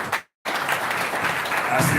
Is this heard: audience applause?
yes